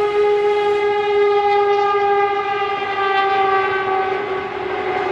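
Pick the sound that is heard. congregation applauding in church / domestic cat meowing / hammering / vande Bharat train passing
vande Bharat train passing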